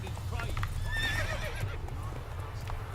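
Hooves clip-clop at a quick pace with a horse whinny rising in the middle, from a horse ridden in The Witcher 3 video game; the hoofbeats run under steady background layers.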